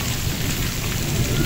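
Heavy storm rain pours down in a dense, loud, steady roar with a low rumbling undertone, continuous throughout and with no voices.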